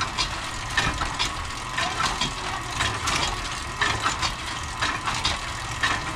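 An electric motor on a water pressure tank runs steadily with a continuous hum and rhythmic pulsing, heard close and moderately loud with no talking.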